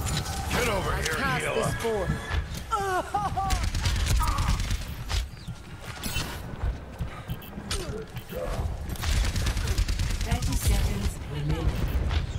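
Video game gunfire from a shooter played on a 2019 HP OMEN 15t gaming laptop, with repeated bursts of shots and mechanical clicks running beneath ongoing speech and other game sounds throughout.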